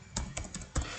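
Keys clatter on a computer keyboard in a few uneven bursts, with one heavier keystroke near the end, like an Enter press, during a command entered on a Windows 11 PC.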